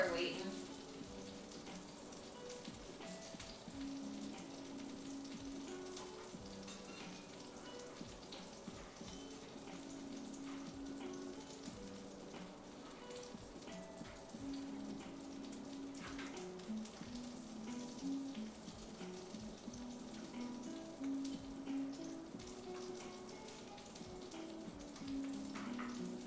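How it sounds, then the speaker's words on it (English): Food fries in a pan with duck fat at home, a faint, steady sizzle and crackle running throughout alongside clinking and running water from dishes being loaded nearby. "hear that sizzle"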